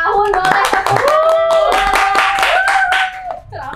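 An audience claps in a brisk, dense burst of applause that lasts about three seconds and then fades. It plays loud and close, mixed with some voices.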